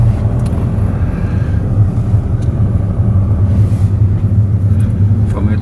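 A driving-school car rolls along Bismarckstraße in the Schoppershof area of Nuremberg with a close, steady engine and road rumble, and an instructor's voice talks over it.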